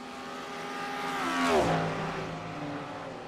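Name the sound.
race cars passing at Road America, including a Cadillac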